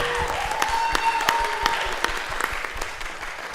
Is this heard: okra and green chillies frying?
no